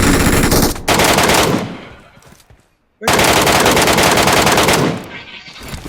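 Sustained automatic gunfire in the mobile game PUBG Mobile Metro Royale, loud and dense, comes in two long bursts split by a brief fading gap, with faint talk beneath.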